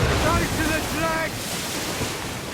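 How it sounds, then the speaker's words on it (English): Ocean waves roll and wash in Assassin's Creed Rogue, a loud continuous broadband surge with wind across the whole stretch, while faint tonal calls or voices drift in briefly near the start. "crash of waves."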